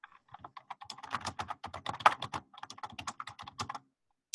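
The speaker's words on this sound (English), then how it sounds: "I hear somebody typing." Someone types on a computer keyboard during a meeting, giving a quiet, fairly near, continuous run of quick uneven key clicks for a few seconds, with no talking.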